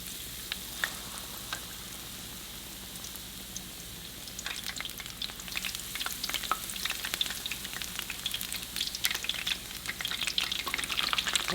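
Battered fish for tacos frying in hot oil, a steady sizzle with crackling pops that swells louder and busier partway through as more pieces drop in, close and continuous with no talking.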